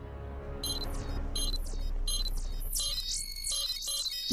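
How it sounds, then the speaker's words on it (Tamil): An alien watch in a Ben 10 cartoon beeps in a quick series of high, sweeping electronic chirps that come faster toward the end, playing over a low rumbling background. "இந்த பீப் சவுண்ட் மட்டும் தான் பிரச்சனையா இருக்கு."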